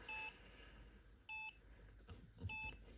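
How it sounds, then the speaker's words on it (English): A laser flame and fire detector gives single electronic error beeps, three short high-pitched tones evenly spaced over a few seconds against a faint hum, with no talking. "So you see here we have a beeping, or one beep. So this signifies an error."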